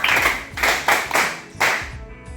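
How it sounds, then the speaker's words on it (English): Students clapping in a school lecture hall, three or four loud close bursts of applause with brief gaps between them, fading out at the end. "Clap for him"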